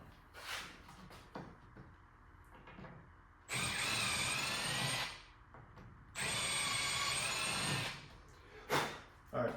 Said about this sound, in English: I'm going to go up one drill bit size to a 5/64, and then we'll re-drill that out